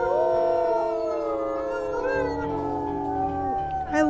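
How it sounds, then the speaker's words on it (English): A wolf pack in a wolf video game howls together, several overlapping long, wavering voices rising and falling at once, loud and close for the whole stretch, ending with a higher yip-like cry. "I love hearing the new howls that we have in the pack"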